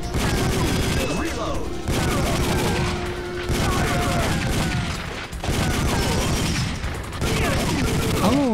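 Rapid, dense gunfire from the arcade shooter Time Crisis, played on a PlayStation emulator, fills the whole stretch as near, loud volleys with only brief gaps between bursts.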